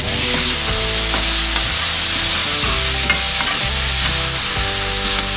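Garlic, onion and tomato fry in a pan, giving a loud, continuous close sizzle broken by the scrape and clatter of stirring, with no talk.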